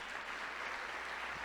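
A church congregation at a Saturday healing service applauds: dense, even clapping that fills the room steadily and evenly for the whole moment, with no single voice standing out above it.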